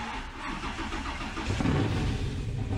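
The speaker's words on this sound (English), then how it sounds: "So they gave us a couch with a huge engine on it." A couch fitted with a huge engine in Farming Simulator 19 starts up: a low mechanical cranking catches and swells into a loud, rumbling idle with a rising rev, close and steady, with no speech.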